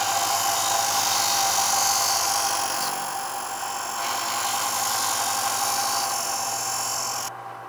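A bench grinder wheel sharpens a woodworking chisel held with firm pressure, giving a loud, steady whirring grind that runs continuously, dips slightly partway through, and then tapers off at the end.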